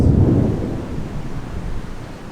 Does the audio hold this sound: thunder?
yes